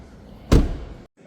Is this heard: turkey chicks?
no